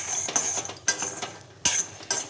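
A dosa spoon stirring in a cooking pan of roasting peanuts, with close metallic scrapes and clinks in quick irregular strokes, no talking.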